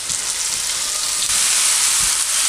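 Small whole cherry tomatoes frying in hot oil for a tandoori chicken dish give a loud, dense, steady sizzle and hiss, with a faint stir or bump underneath.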